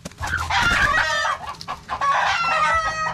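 Native chickens on a Filipino farm cluck and crow loudly and continuously at close range, with busy overlapping fowl calls throughout.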